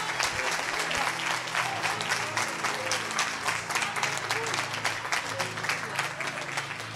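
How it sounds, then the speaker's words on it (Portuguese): A church congregation claps along in worship during a Sunday celebration service, a steady rhythmic beat of many hands over sustained music and a low drone, moderately loud and continuous. "Adora só com as suas palmas."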